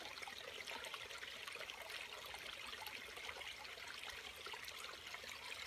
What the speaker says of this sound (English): So we'll listen to the water for a second.